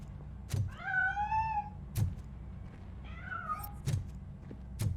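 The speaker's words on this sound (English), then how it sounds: "That cat must be hiding inside." A cat meows twice inside the video game RoboCop: Rogue City, rising, drawn-out cries set between sharp intermittent thunks, heard close with no talk over them.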